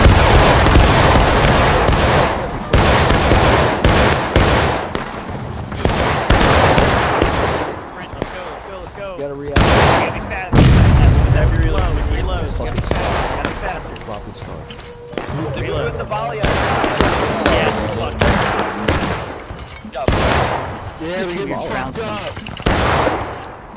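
Civil War musket volleys crack out in War of Rights, dense ragged fusillades and scattered single shots echoing across a battlefield, loud and close, with shouted commands and voices among the gunfire.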